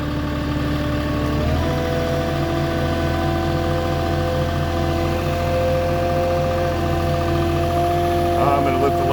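A Moffett truck-mounted forklift carrying long lumber runs with a loud, steady engine hum and a slight shift in pitch as it works. The sound is close and continuous, and someone talks over it.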